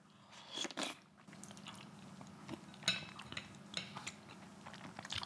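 Close, soft chewing and biting of homemade Mexican menudo with tender hominy, moist crunches and mouth sounds repeating irregularly, with faint clinks of a spoon or bowl in a quiet room.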